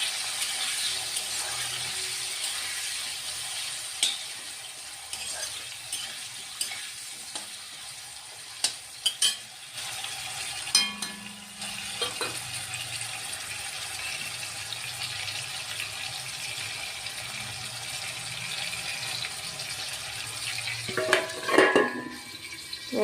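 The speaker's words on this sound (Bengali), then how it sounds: "আলুটাকে আমি প্রথম ভেজে নিচ্ছি" Potato pieces seasoned with turmeric and salt frying in a pan, a steady close sizzle with occasional clinks and stirring clatter, no talk.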